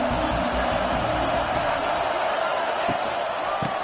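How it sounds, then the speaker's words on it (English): A big stadium crowd roars at a Penn State football game in Happy Valley on third down, a dense, loud, sustained wall of cheering that stays constant throughout. "Here comes the noise from this big crowd in Happy Valley on third down."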